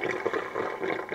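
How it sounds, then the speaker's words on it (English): Cold tap water pours steadily over cooked spring roll filling in a kitchen, a close, continuous splashing rush with no talking. "I'm gonna rinse it under cold water"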